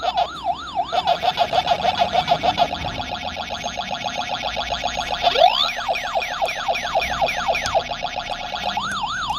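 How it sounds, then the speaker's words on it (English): High-pitched Pac-Man ghost siren from an arcade-style handheld game warbles rapidly and steadily, broken midway by a quick rising effect and clustered bleeps before the cycling wail resumes, loud and alone. "The siren is perfect."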